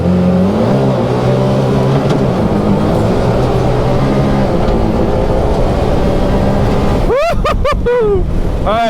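A Maverick R off-road vehicle accelerates hard from a standstill on sand, its engine a loud, steady roar with rising tones and a few quick upshifts near the end.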